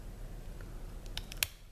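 Dissecting scissors cutting along the cervical groove of a crayfish shell, a few quick faint snips near the end, one sharper close cut standing out over quiet room hum.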